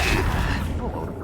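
Flipendo spell cast in the Hogwarts Legacy video game, a dense booming magical blast with a broad rumbling body that stays loud and steady across a brief burst.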